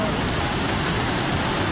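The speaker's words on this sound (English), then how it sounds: "Hail, rain, mudslide, rocks." Heavy rain and hail pour down in a desert storm with waterfalls and mudslides nearby, a loud, dense, steady roar of water filling the whole stretch without break.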